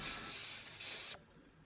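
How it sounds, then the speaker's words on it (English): Diesel sprays in a steady, close hiss onto the engine bay of a Ford Fusion being deep cleaned, then cuts off abruptly, leaving quiet background. "Now Mr. Suprit Rai is spraying diesel on the engine bay"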